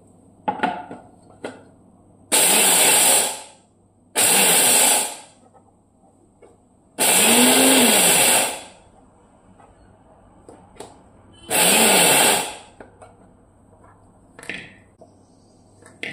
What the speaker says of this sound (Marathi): हे शेंगदाणे सुद्धा मी असेच जाडसरच बारीक करणार आहे, पूर्ण कूट करणार नाही आहे